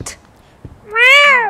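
A cat in the horror game The Medium gives one clear, drawn-out meow, loud and close, after a couple of faint taps.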